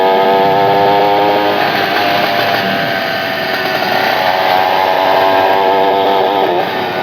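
A small motorcycle engine revs steadily up close, a buzzy, high-pitched drone holding for several seconds with slight rises in pitch.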